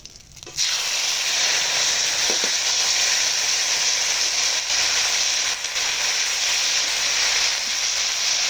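Ground spice paste for dum aloo curry hits hot oil with whole cumin and bursts into a loud, steady sizzle that continues without a break, with no talking.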